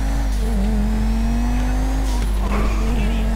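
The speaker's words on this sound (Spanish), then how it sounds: "Vamos a pegarle un poco de acelerón." A Schyster Fusilade V6 sports car in GTA 5 accelerates, its engine droning steadily at high revs, loud and close, with a faint tire squeal and a constant background hum.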